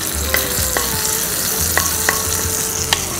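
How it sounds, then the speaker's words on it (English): Hot tempering pours into a tangy gravy of dried turkey berries (sundakkai vathal kuzhambu), giving a steady close sizzle broken by a few sharp clinks of a spoon against the pan. "I'll pour this on to our already ready vatral kuzhambu"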